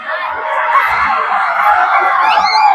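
Crowd cheering and yelling at a Muslim IDC football final between Seaqaqa and Vunimoli at Subrail Park, Labasa, a dense, steady roar of screams and whoops under a commentator's voice.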